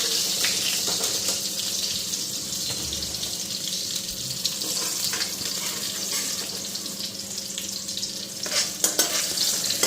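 Spice paste fries in a pan with a steady broadband sizzle and occasional stirring scrapes, fairly close and continuous, with some running water in the background and no talk.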